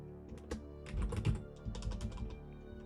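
Computer keyboard keys pressed in quick, irregular bursts of close, crisp clicks during PC gameplay, with steady tonal game sound underneath and no one talking.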